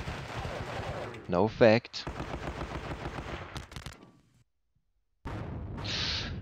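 A fresh infantry squad opens fire in the WWII strategy game Panzer Battles, set in Normandy, with rapid rattling gunfire bursts for about four seconds. A short spoken remark comes in over the shots, then a pause, then a steady hiss.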